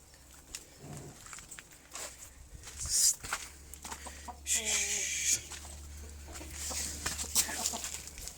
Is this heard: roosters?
yes